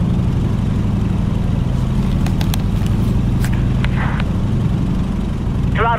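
A Stearman biplane's radial engine in Microsoft Flight cranks and catches, settling into a loud, steady low rumble that runs unbroken throughout with a few faint clicks over it.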